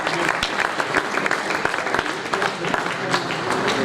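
Applause from an audience at a bullfighting cartel presentation for Pâques Taurines 2025, a steady dense clapping that holds at moderate loudness throughout.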